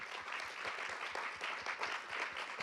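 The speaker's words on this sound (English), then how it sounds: "if we give one more round of applause for Dr. Bayer." Audience applause at the close of a talk, a steady wash of many hands clapping at moderate loudness, continuous throughout with no voices over it.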